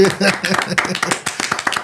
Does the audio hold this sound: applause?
yes